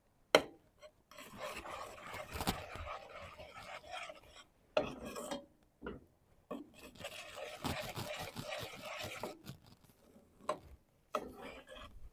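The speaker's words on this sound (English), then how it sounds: "So let's just go ahead and mix that all in" Homemade chocolate syrup mixture being stirred in a pot, a steady rasping scrape of the utensil against the pan in repeated strokes, with short pauses between bursts, close and fairly quiet.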